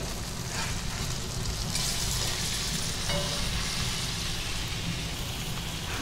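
Pomfret fish frying in a pan over a low gas flame, a steady close hiss and crackle of sizzling oil that carries on evenly without pause or talk.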